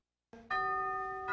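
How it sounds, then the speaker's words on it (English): A doorbell in a historic desert home with Moorish-style touches rings a clear two-tone chime, loud and close, its tones sustaining and overlapping before a second strike near the end, with no talking. "Doorbell still works. That's great news."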